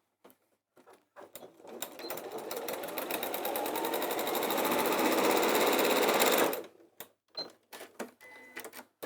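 A sewing machine stitches across a fabric bag kit, a steady fast mechanical whir that builds and runs for several seconds, framed by short bursts of stitching and handling noise before and after.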